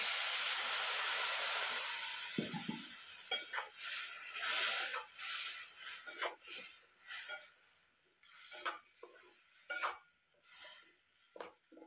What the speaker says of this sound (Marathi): शेंगा छान मिक्स करून घ्यायच्या आणि थोडंसं पाणी टाकून घ्यायचं